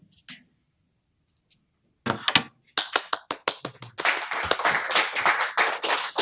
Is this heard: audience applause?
yes